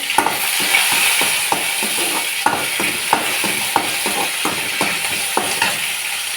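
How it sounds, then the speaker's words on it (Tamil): Mustard seeds in hot oil for a mutton curry tempering, spluttering and popping hard, loud and close, with sharp crackles repeating quickly over a constant sizzle as curry leaves go in. "பொறிஞ்சிச்சு நம்ம கருவேப்பிலை சேர்த்துக்கலாம்"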